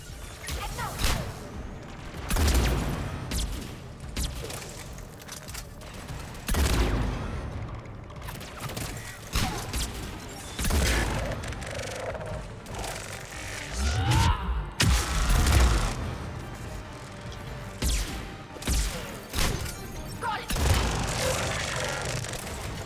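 Spitfire heavy weapon from Mass Effect 3 firing in bursts of loud, booming shots, with repeated impacts and explosions spread throughout amid game effects, alongside some speech.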